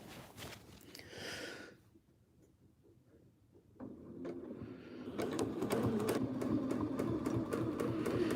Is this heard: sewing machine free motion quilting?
yes